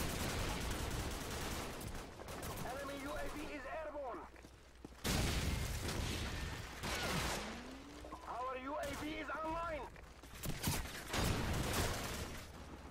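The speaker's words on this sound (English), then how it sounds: "just gotta spam the shotgun then" A shotgun fires repeatedly in Call of Duty 4, sharp loud blasts spaced through the stretch amid game noise, with voices talking between shots.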